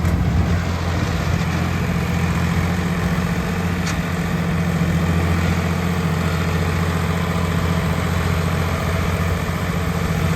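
A heavy tractor engine idles continuously with a deep, throbbing low hum and steady vibration, close by and unchanging throughout.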